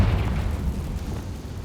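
Confringo fire spell explosion in the video game Hogwarts Legacy, a deep rumbling boom that rolls on steadily and fairly loud for under two seconds with no talking.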